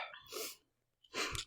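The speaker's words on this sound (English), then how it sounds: "I've had to sneeze for a while." A person sneezes close up, a breathy intake followed a moment later by a sharp, loud burst of air, heard alone.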